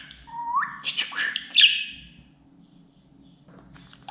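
A pet budgerigar gives a quick run of rising chirps, squawky calls and warbled notes up close, then falls quiet over a low background hum before a final short call.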